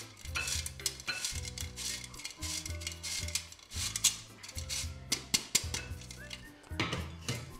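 A spoon stirring loukoumades (Greek donut) batter in a bowl, with repeated scraping and rubbing strokes over steady background music.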